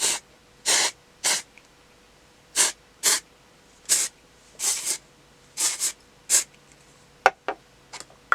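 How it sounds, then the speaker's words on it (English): Repeated short bursts of aerosol hairspray, about a dozen quick hissing sprays in an irregular rhythm, close by with quiet gaps between. "take a little bit of hairspray and just spray the rest of my hair"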